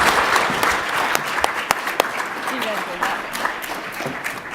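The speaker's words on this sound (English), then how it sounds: "Can we get another round of applause for this group?" A conference audience applauds panelists after an e-mobility discussion, a steady wash of many hands clapping with a few sharper individual claps standing out.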